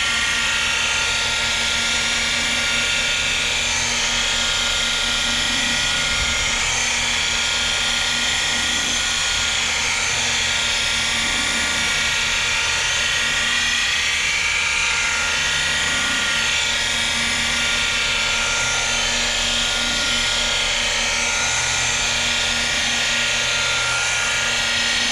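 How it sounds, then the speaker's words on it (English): A rotary polisher runs on car paint during paint correction, giving a steady, continuous high whine and hum that holds evenly for the whole stretch with no talk. "rotary, man, it cuts your time in half when you're doing paint correction"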